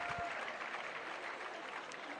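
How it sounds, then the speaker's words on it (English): A crowd applauds and cheers as a climber walks onto the mats at a lead-climbing semi-final in Chamonix, a steady, dense wash of clapping that holds at an even level throughout. "the crowd reacting as Annie Sanders walks onto the mats here"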